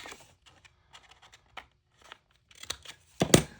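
Paper being trimmed with scissors to shorten the bottom of a double-sided printed pocket folio: a handful of light scattered snips, then a louder, crisp close cut near the end.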